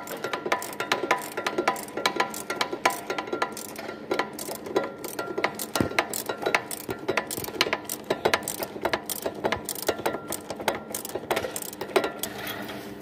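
Repeated ratcheting clicks and small metallic mechanical ticks while parts are turned and screwed together during assembly of a Suzuki GEX, close and busy at an irregular rhythm with no talking.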